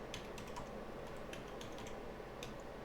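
A command is tapped out on a computer keyboard during an Xbox One hard drive replacement, a quick run of close, light plastic key clicks in an uneven rhythm with no talking.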